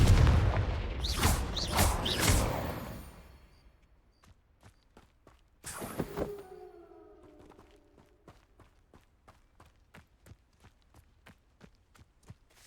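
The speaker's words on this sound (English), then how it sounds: "Confringo!" A Confringo spell explosion in the video game Hogwarts Legacy: a loud burst of blasts at the start, then a second boom, followed by a long trail of faint, regular footstep-like taps.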